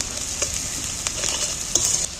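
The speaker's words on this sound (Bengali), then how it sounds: "নেড়ে নেড়ে একটু আধা ভাজা করে নেব" Onions half-fried in a pan for a fish dish, a steady soft sizzle broken by several sharp scraping clicks of a spatula as they are stirred, with no talking.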